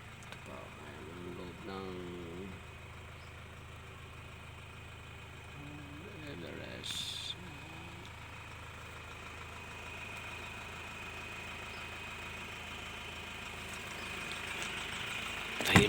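A Ford Everest 2.0L 4×4 idles quietly, giving a low steady engine hum that runs throughout, with someone talking over it early on.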